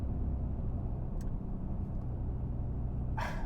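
A truck rolls along steadily, heard from inside the cab as a constant low engine and road rumble with faint ticks and a brief rustle near the end, no talking.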